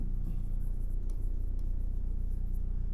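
Writing on a board during a maths class, faint scratchy strokes over a steady low hum of room noise.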